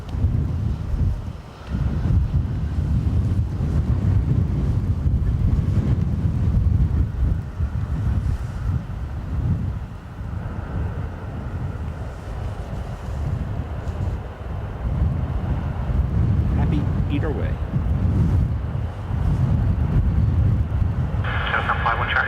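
Strong wind at Dublin Airport on a soggy day of crosswinds, a steady loud rumble and buffeting against the microphone that runs throughout, with a distant aircraft-like roar mixed in and brief radio chatter in the background.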